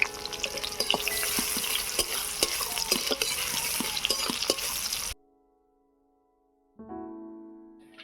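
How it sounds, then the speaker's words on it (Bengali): Chopped onions fry in mustard oil with a busy, continuous sizzle broken by repeated spatula scrapes and clinks for about five seconds, then a sudden silence before a faint tonal hum returns. "পেঁয়াজটা একটু ভেজে নিলাম"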